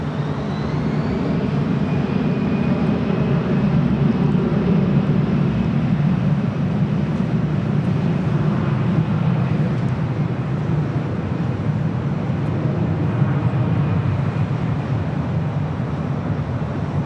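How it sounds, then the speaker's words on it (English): A Delta Air Lines Airbus A319 at LAX gives a loud, steady jet-engine roar with a broad rumble and a faint high whine, holding constant throughout with no talk over it. "Delta Airlines Flight 420 heading to Dallas Fort Worth, Texas, A319"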